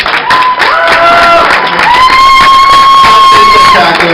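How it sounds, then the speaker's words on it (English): Live audience applause and cheering for a walking costume at a cosplay showcase, a loud, dense wash of clapping and crowd noise with whistle-like tones sustained throughout. "This man deserves all of your applause"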